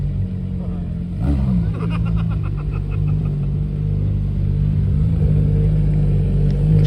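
A twelve-cylinder car engine rumbles steadily and swells into a rev partway through, with voices talking over it.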